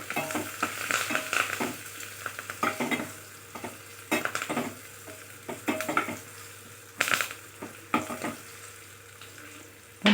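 Mustard seeds, asafoetida and curry leaves sizzle and splutter in hot oil for tomato rasam, with irregular crackling pops and occasional scraping of a spoon, close and moderately loud.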